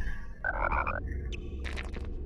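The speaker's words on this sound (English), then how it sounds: "there are lots of chocolate frogs here" A chocolate frog in the PS1 Harry Potter and the Philosopher's Stone game croaks in a short buzzing burst, followed by a brief chirp and a second rough croak over a low steady background hum.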